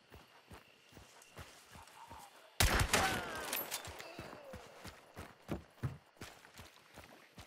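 A single loud Winfield Musket blast in Hunt: Showdown bursts out with a long rumbling tail, set against steady rhythmic footsteps that continue before and after the shot.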